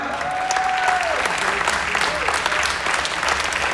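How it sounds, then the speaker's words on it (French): An audience claps steadily at a tennis tournament prize ceremony to honour a player, a dense, even wash of applause lasting throughout, with a voice speaking faintly beneath. "Faites un tonnerre d'applaudissements pour"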